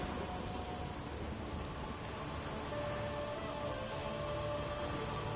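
A storm with lightning in The Witcher 3 video game: steady, dense rain hisses loud and unbroken throughout, with no voices.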